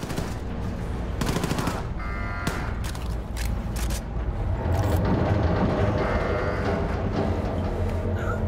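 Gunfire in the shooter game Wolfenstein II: The New Colossus: dense, loud, sustained automatic bursts with sharp individual shots and mechanical clatter over a rumbling bed, with no talking.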